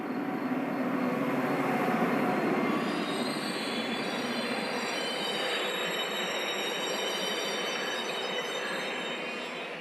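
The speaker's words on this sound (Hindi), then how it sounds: "ट्रेन तेजी से आ रही थी।" A train pulling into a station and braking to a stop, metal wheels squealing on the rails in a sustained high-pitched screech over a steady rumble, continuous and fairly loud throughout.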